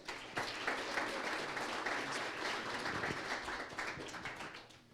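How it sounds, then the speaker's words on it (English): Fairly quiet audience applause at a marketing chapter talk welcoming a speaker, a steady patter of many hands that holds for several seconds and then fades out at the end. "Please give him a round of applause"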